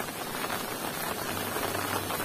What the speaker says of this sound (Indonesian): ini kebetulan sudah mulai turun hujan ya di Kampung Lembur Sawah ini